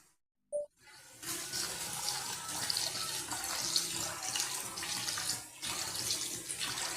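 Barnyard millet rice being washed in water, with a brief clink, then continuous running and swishing water that stays loud and steady with one short dip.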